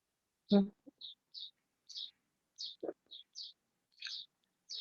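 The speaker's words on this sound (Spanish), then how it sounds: "¿se oye un pajarito por ahí?" Small bird chirping in short, high repeated notes spaced across a few seconds, fairly faint, with a brief human voice sound near the start and another mid-way.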